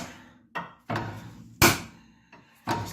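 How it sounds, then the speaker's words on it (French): Hammer blows striking a stuck part on an AMC Pacer car under restoration, five sharp metallic knocks at uneven intervals, loud and close, each ringing briefly before fading. "on va juste taper dessus à coup de marteau jusqu'à temps qu'il tombe"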